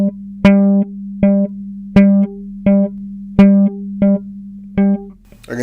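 A bass string is plucked over and over on the same low note in African bass technique, each short thumb strike followed by a finger and a brief ringing tone, in a steady rhythm.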